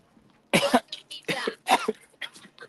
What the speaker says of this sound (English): And there comes the coughing.